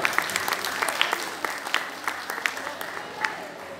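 An audience at a book programme speech event claps, a dense burst of applause that fades and thins over a few seconds, with voices from the crowd mixed in.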